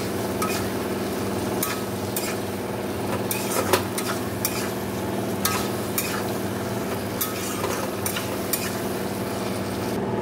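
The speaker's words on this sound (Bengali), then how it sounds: "জিরে ধনে কাশ্মীরি লঙ্কাগুলো সব দিয়ে দিলাম, মিষ্টিও দিয়েছি, দিয়ে এবার ভালো করে কষে নিয়ে জল দিয়ে দেবো।" Cumin, coriander and Kashmiri chili spices fry in a pan with sugar added, a steady close sizzle under repeated sharp scrapes and clinks of a spoon stirring against the metal.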